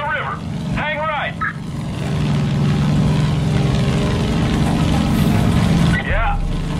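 Propeller plane in the Far Cry 5 video game, a steady droning engine hum that swells slightly and holds throughout, with bursts of a voice talking over it near the start and end.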